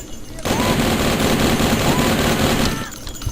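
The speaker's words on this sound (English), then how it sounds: "Tommy gun's best to demonstrate that." Tommy gun in the shooter game Blood firing one sustained automatic burst, a loud rapid rattle of shots lasting nearly three seconds before cutting off.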